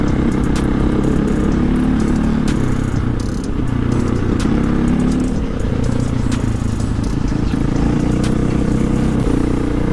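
A KTM 450 and a Beta 350 dirt motorcycle race side by side, their engines roaring loud and steady throughout with shifting revs and some clattering, close to the listener.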